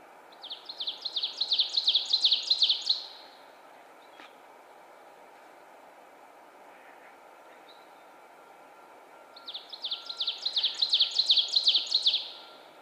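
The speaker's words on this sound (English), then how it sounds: "it's an oven bird, and it's always called teacher" An ovenbird sings two loud, ringing bursts of its repeated teacher-teacher phrase that build in volume, separated by several seconds of quiet woodland background.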